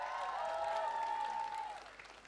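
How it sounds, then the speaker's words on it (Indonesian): Concert audience applause, a soft steady patter of many hands that fades toward the end, with a sustained musical tone ringing over it. "tepuk tangan buat lu semua malam hari ini di tempat ini."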